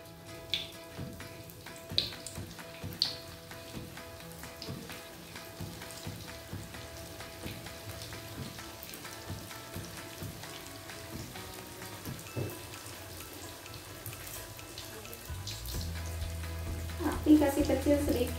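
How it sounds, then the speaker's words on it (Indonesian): Steady crackling sizzle of spring rolls frying in hot oil, a dense patter of pops with occasional louder spatters, swelling near the end. "Mari kita mulai menggoreng."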